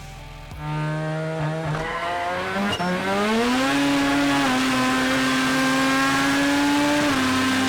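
Drag race car making a full-throttle pass at a drag battle, a loud sustained engine wail climbing in pitch through the gears, with brief dips at each shift, heard from close by with no talk.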